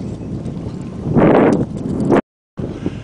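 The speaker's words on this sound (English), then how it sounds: "It's windy out here." Loud wind buffets a microphone outdoors on a lakeshore point at Lake Fork, rising into a heavy rumbling gust before cutting off briefly and returning.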